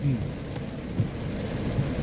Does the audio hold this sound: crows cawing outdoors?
no